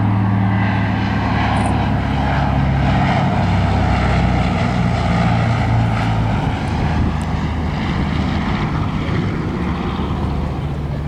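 A PBY-5A Catalina flying boat's propeller engines drone loud and steady at an airshow, a continuous heavy roar with no breaks throughout.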